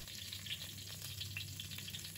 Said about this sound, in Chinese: 煎到它的表皮成了金黄色